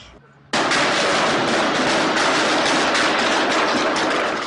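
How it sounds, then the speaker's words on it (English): A sudden, dense burst of gunfire erupts after a brief quiet moment and continues as a loud, continuous roar of rapid shots. "What were you doing while all that gunfire was going on?"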